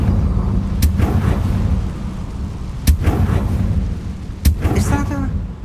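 Confringo fire spell exploding in Hogwarts Legacy: a few sharp, loud blasts spaced a second or two apart over a rumbling game backdrop, with a voice speaking partway through.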